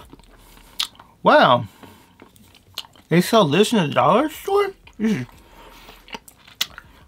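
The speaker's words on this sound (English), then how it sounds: "This is really hard to chew." Chewing on a hard, crunchy snack bought at a dollar store, with close, loud bursts of mastication between stretches of someone talking.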